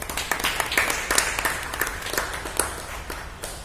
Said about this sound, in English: Warm round of applause for you.